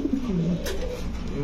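A large pigeon of about two kilograms, for sale at a fancy pigeon farm, gives a low, soft cooing call close by against steady room noise.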